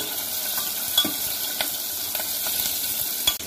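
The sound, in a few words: tomato pieces frying with garlic, ginger and spices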